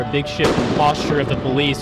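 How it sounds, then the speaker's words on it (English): Explosions in a hillside area struck by Hurricane Melissa, heard as booming bursts under a reporter's continuous speech during a news broadcast. "You can probably hear some explosions behind me."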